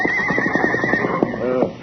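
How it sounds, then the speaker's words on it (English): Horses ridden by bandits resting before descending a trail: a close, loud whinny with quivering pitch, with a faint clip-clop of hooves underneath. "The bandits sit on their powerful horses for a brief rest before their descent upon the Lazy Y for a sneak attack on Golpan Jeffers"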